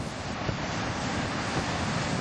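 Ocean waves washing onto a shore, a continuous broad hiss of surf with wind noise, steady and fairly close throughout, no voices.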